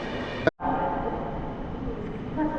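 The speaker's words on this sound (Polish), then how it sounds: "a następnie ma wjechać pociąg z Kijowa." An EP07 electric locomotive hauls the Kiev Express into Warszawa Zachodnia station in winter, giving a steady, fairly loud rolling rumble with a brief dropout near the start.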